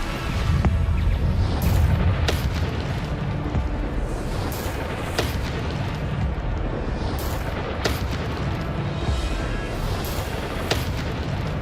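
Explosive Bombarda spells burst during a combat trial in Hogwarts Legacy, with dense booming blasts layered over continuous loud game rumble, several sharper cracks punctuating the steady roar.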